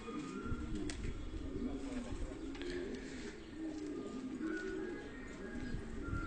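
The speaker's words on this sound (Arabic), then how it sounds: "هنشوف الفراخ راح تطير" Pigeons and doves coo and rustle inside a bird trap, with soft repeated calls and occasional chirps close by over a constant outdoor murmur.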